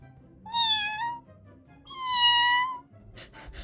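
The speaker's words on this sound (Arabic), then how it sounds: "انا سامعه صوت قطه بتنونو، يا ترى في قطه معايا في الاوضه ولا ايه؟" A cat in a Roblox game meows twice, loud and close, each call drawn out and bright, with a brief scuffing noise after the second.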